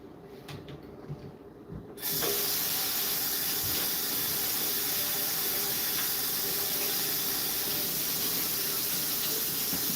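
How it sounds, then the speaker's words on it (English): A tap suddenly turns on and runs in a steady hissing stream into a sink for washing up, close and loud, after a few seconds of quieter room sound. "Hold on, I gotta wash up."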